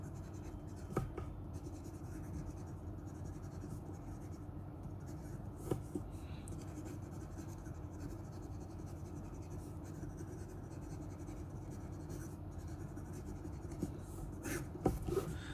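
A fountain pen with a Jowo medium nib writes on paper, a faint, continuous scratching with a few light taps, heard close and quiet with no talk.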